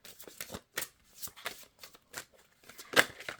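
Tarot cards being shuffled by hand, a series of soft, quick riffles and flicks in irregular rhythm, close and quiet with no talking, ending in a slightly sharper snap.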